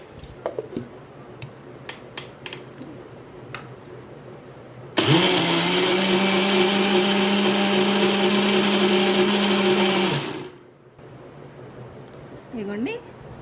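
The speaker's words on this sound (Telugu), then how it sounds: "ఆ మాత్రం వాటర్ చాలు మిక్సీ పట్టేసుకుందాం" A kitchen mixer grinder whirs loudly for about five seconds as it grinds soaked moong dal into batter with a little water, starting and stopping abruptly, with quiet clinks and light sounds before and a brief voice after.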